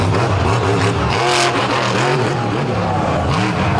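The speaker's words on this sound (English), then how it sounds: "The TMS Signature Series machine, the original Signature Series machine, launching into the night sky." The TMS Signature Series monster truck launches over buses at a night beach show, its engine roaring loud and revving hard in a sustained, rising-and-falling blast with crowd noise behind.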